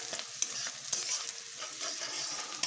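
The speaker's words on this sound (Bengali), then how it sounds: "তেলেই আমি এখন একটু আদা ও রসুন ফোড়ন দিচ্ছি।" Chopped ginger, garlic and green chilli fry in oil while being stirred, a soft steady sizzle with quick scraping strokes of a spatula, fairly quiet and close.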